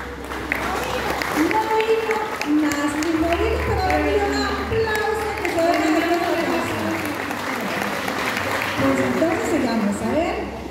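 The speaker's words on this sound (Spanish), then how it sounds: "¡Un fuerte aplauso!" A crowd applauds at a children's pageant in San Rafael de Naranjo, steady clapping running throughout while an announcer's amplified voice talks over it.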